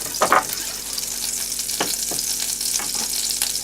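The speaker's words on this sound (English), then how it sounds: "is that sizzling already?" Steak sizzling in butter and olive oil in a small pan, a steady close hiss with brief louder crackling bursts near the start and occasional pops, no talking.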